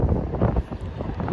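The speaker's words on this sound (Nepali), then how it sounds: "यति ठुलो हावा चलिरहेछ" Strong wind gusting at a seaside park in Japan, buffeting the microphone with loud, continuous low roaring and rumbling, with no voices.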